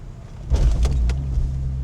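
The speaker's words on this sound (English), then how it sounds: "And there you go, it's popped. The car is driving now." A Corvette engine catches after the clutch is popped while rolling downhill on a dead battery, a sudden low rumble that jumps up and keeps running steadily near the microphone, with no talk.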